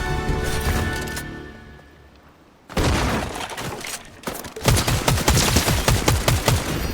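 Gunfire in a first-person shooter video game: a dense volley of sharp shots, a quieter lull, then rapid repeated cracks and bursts that grow louder toward the end, with no talk.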